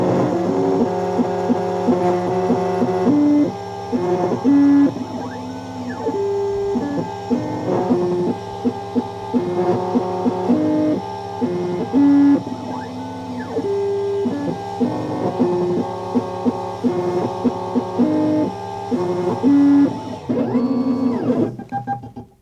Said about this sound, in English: Notice the cutter will come in and touch off on the edge of the key to determine the starting point.